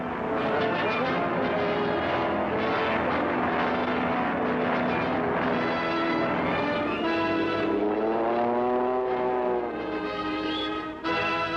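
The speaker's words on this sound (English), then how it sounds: "Planes warm up for a hazardous takeoff through wind and rain." Propeller warplanes warm up for takeoff in wind and rain during the Pacific war. Their engines make a loud, continuous droning roar whose pitch rises and falls as they rev, and no voices are heard.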